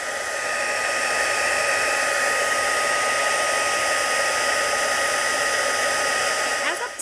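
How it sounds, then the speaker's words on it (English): A heat tool blows steadily while melting embossing powder on a card, giving a loud, continuous airy whoosh that holds even for about seven seconds before easing off at the end. "Takes just a minute to heat up, and then you will see as that embossing powder melts, it'll get darker"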